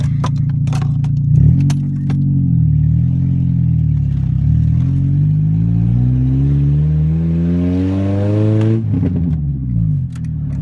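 A car engine idles, then revs up steadily before dropping off with a sharp crack, a few snapping pops heard near the start.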